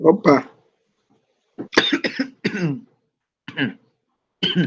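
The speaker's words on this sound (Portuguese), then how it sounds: "abriu o microfone para tossir para a gente" A few sharp coughs and throat clearings picked up by a computer microphone during an online lecture, separated by short silences, with a brief spoken word between them.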